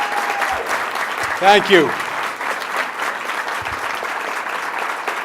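Audience applause at a political campaign event, a steady wash of clapping throughout with a brief spoken thanks partway through.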